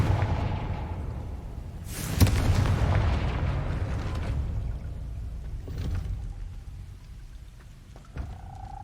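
In the video game Hogwarts Legacy, a Confringo fire spell blasts at a gate, giving one deep, booming explosion that fades into a rumbling tail, followed by quieter game effects and a short chime near the end.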